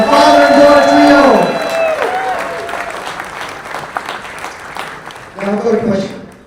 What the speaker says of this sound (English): Big round of applause for the father and daughter trio.